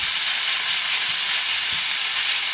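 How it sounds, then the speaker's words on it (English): Ingredients for a Sunday quiche sauté in a hot pan with a loud, steady, unbroken sizzle and hiss that fills the whole stretch, close up and with no voices. "I just saute it because I like it better that way."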